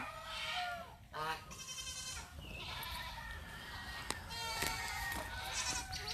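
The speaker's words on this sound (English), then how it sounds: "I'm trying to look at the sheep." Sheep bleat on a farm, several wavering, nasal calls rising at intervals at moderate distance over steady outdoor background noise.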